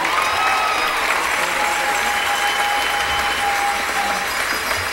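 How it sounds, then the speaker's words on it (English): Pageant audience in a large hall giving a long, loud round of applause for two contestants, a dense continuous roar of clapping with a faint sustained musical tone running underneath. "another round of applause for Mary Elizabeth and Ashley Barrasi."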